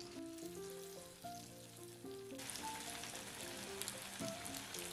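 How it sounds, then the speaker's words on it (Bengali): Bird's nest snacks dropped one at a time into hot oil on a medium gas flame give a soft, faint sizzle that grows into a busier crackle, with faint tonal background music throughout. "ওই একই তেলের মধ্যে আমি দিয়ে দিচ্ছি একটা একটা করে বাসা।"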